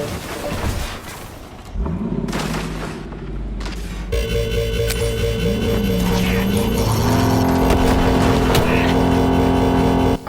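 A car driving in Cyberpunk 2077 on PS5: a loud, continuous engine drone with revving and sweeping pitch changes and rumbling booms, sustained throughout with busy game sounds layered on top.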